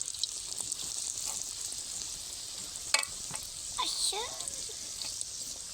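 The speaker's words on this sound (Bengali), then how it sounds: "তেলটাও গরম হয়ে গেছে, তেলের মধ্যে ছেড়ে দিচ্ছি।" Cauliflower chops coated in gram flour batter are dropped into hot oil, giving a steady hiss of frying with scattered pops and crackles and a brief louder splash partway through.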